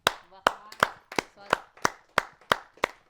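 Rhythmic clapping at a Hindi poetry gathering, about nine sharp, evenly spaced claps close by, each ringing briefly. Fainter sounds between them suggest speech.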